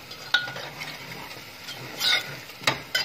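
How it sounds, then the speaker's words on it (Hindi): Onion and garlic frying in a pan for chane ki daal palak, stirred with a utensil: a soft steady sizzle broken by a few sharp scrapes and clinks against the pan, with no talking. "दोनों को हल्का पिंक होने तक भूनेंगे।"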